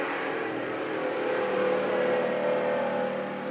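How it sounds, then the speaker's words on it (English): Road traffic passes outside, a steady muffled whoosh of cars swelling and fading slightly in the background, continuous and moderately loud with no talking. "Excuse the cars."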